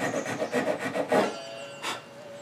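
Hand saw cutting a dovetail groove in wood with its smaller crosscut teeth: a rapid series of short rasping strokes, near and clear, then a pause and one more stroke.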